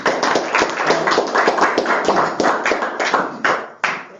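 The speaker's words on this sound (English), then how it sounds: "Mrs. Riggle, let's give her a round of applause" A small group at a school board meeting claps steadily for several seconds, the applause close and lively before tapering off into a few last claps.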